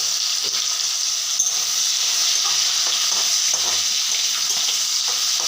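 Salted, turmeric-rubbed dried fish fries in hot oil with a dense, steady hiss and crackle, close and moderately loud, with faint scraping underneath.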